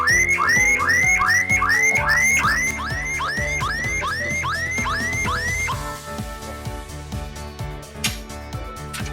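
A car's alarm siren sounds continuously, loud and close, cycling through rising whoops before switching to a rapid warbling pattern.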